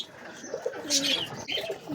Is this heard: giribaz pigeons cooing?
yes